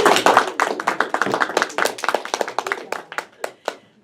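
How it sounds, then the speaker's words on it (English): Audience clapping at a Toastmasters meeting, a small group's applause starting full and then thinning into scattered individual claps as it fades out. "Applause!"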